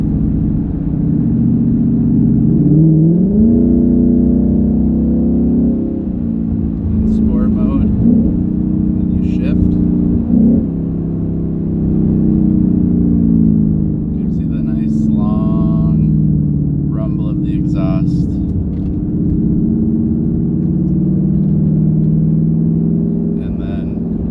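A 2019 Mustang GT Premium PP1 with a 10R80 automatic transmission rolls downhill, its engine a steady low drone that shifts pitch slightly at times, with someone talking almost the whole way through.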